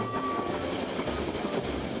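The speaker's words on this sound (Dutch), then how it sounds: "De trein gaat enkele tientallen kilometers door vlak land tot aan het station Draai aan den Höhe." A narrow-gauge steam train in the Harz mountains runs on rails across flat country, a steady rumbling roll with rhythmic clatter heard from inside a carriage, a faint whistle-like tone early on.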